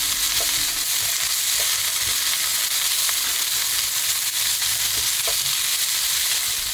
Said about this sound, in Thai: ตามด้วยผักกาดดองที่เราเจียวไว้ครับ เราจะผัดกันสักพักหนึ่งเลยนะคะ